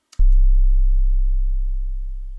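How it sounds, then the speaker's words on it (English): A single deep, clean 808 sub-bass tone, an unprocessed sine wave from Ableton Live's Operator synth, starts with a click and sustains smoothly, slowly fading without any other sound. "This is just a straight sine wave from Operator."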